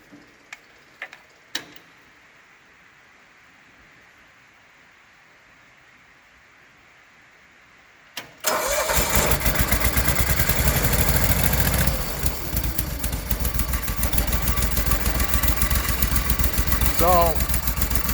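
A John Deere 322 lawn tractor's Yanmar gas engine, long stored, with a new lift pump and cleaned carburetor, cranks and catches after a few clicks and quiet, then runs loud, rough and uneven nearby.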